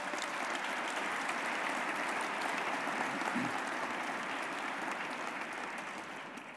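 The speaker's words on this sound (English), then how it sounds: "Let's give them a round of applause." A large audience at a New York State budget event applauds in a sustained, even roar of clapping that holds steady, then gradually fades over the last couple of seconds.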